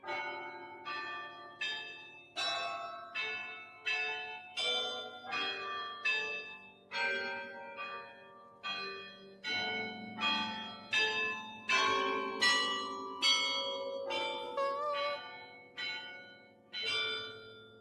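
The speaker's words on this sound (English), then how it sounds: "we're going to have a guessing game of Name That Tune from the bells in Bruges" Carillon bells in Bruges ring out a melodic tune, a steady sequence of struck bell notes with long resonant decays, clear and moderately distant, no voices.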